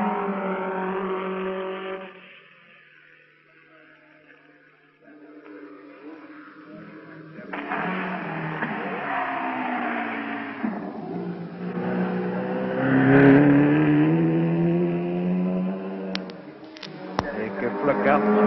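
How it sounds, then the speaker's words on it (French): 1957 Formula One race cars, including a BRM, pass the grandstands at Goodwood in the Glover Trophy. Engines drone and rise in pitch as the cars approach and sweep by, under steady French race commentary. "Flockhart sur sa BRM passe à son tour devant les tribunes"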